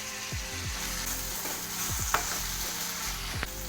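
Ginger and garlic, added to a pan with onions and chopped tomatoes, sizzle steadily and close up while a spoon stirs them in repeated sliding scrapes.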